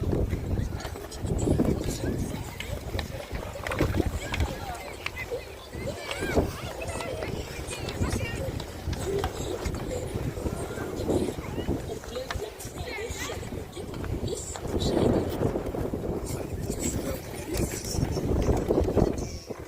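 Heavy gusting wind buffets the microphone in rough, uneven bursts outdoors at an ice event in rainy weather, with people talking underneath throughout.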